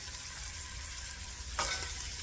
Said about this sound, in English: And now I'm going to go into the pot with the onions